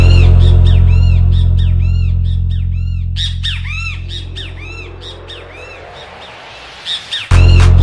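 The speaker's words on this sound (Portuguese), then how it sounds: "Passarinho." Loud, repeated squawking calls of a great kiskadee (bem-te-vi) in a fast rhythm over a steady low hum in a funk remix, the hum cutting out briefly before returning abruptly.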